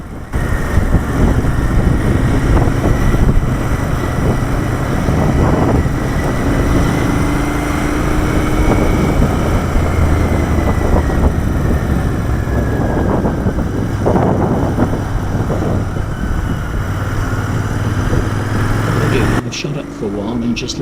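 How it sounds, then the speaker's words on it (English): A 2019 Royal Enfield Interceptor 650 motorcycle on the move: a loud, steady engine drone whose pitch rises and falls with the throttle, wrapped in constant wind rush, with a brief shift in the sound near the end. "just let you watch the ride so you can hear the bike and see how it handles"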